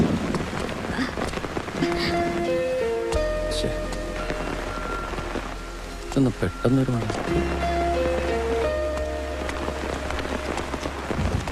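Steady rain patters in the background of a scene near a church while people talk over it, with music and a rumble rising and falling beneath the downpour.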